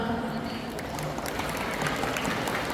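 Students and teachers at a Sangkha School assembly in Surin, held for Sunthorn Phu Day, applaud class M.6/5 with a brief, dense burst of clapping that continues throughout.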